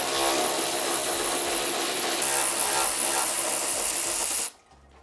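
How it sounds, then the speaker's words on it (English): A Ryobi Whizzer rotary power tool runs near a racing radiator job on an MR2. It gives a loud, steady high-pitched whine for about four seconds, then cuts off abruptly, leaving quiet. "We use our Ryobi Whizzer."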